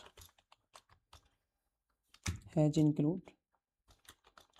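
Clicking keys on a computer keyboard while C code is typed, a scattered run of sharp taps near and moderately loud, broken by a stretch where someone speaks, then the tapping resumes.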